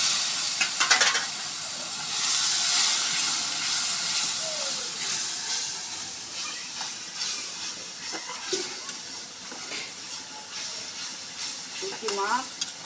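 Dried fish curry spices (cumin, garlic paste, turmeric, salt) frying in a pan as a little water is added, giving a steady broad sizzle and hiss with occasional stirring clinks, fairly close and without speech.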